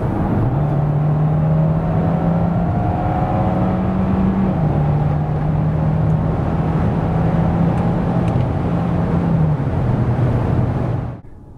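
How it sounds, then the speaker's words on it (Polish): A 2025 Hyundai Santa Fe 1.6 T-GDI PHEV, a heavy six-seat plug-in SUV, pulls from 90 to 140 km/h with a loud, continuous engine hum that climbs through shifts before cutting off at the end. "A tak od 90 do 140 km na godzinę."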